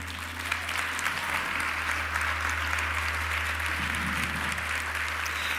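Church congregation applauding at a Portuguese-language sermon, a steady dense wash of clapping that holds evenly for several seconds under a constant low hum.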